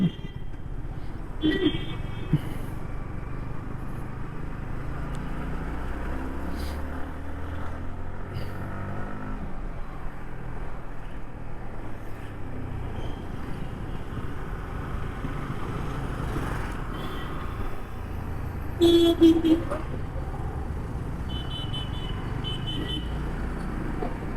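A car driving along a city road in traffic, a low steady engine and road hum throughout, with someone talking over it and a brief beep-like tone near the end.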